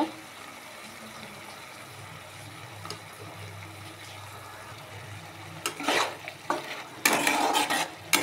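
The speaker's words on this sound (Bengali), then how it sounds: "সামান্য একটু নাড়াচাড়া করলে আমার মৌরলা মাছের সর্ষে পোস্ত রেডি" Mourala fish curry with mustard and poppy seed is stirred in a pan, a low simmer giving way to several loud scraping and clattering stirs near the end; no talking.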